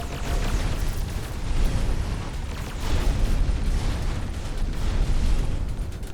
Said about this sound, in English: Dark fog spaceport destroyed